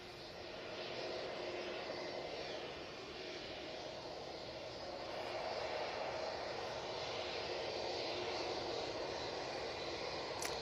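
A British Airways shuttle jet bound for Heathrow taxis at Manchester Airport, its engines a steady, moderately distant whine and rumble that swells slightly midway.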